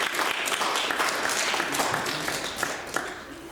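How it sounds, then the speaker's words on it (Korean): A church congregation at a worship service claps together in sustained, fairly even applause, close and full, with a few sharper individual claps near the end. "박수 한번 부탁드리겠습니다."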